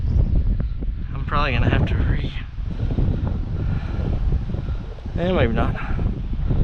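Steady wind buffets the microphone at Buffalo Springs Lake on a spring catfishing outing, a constant low rumbling roar that runs through the whole stretch while someone talks over it.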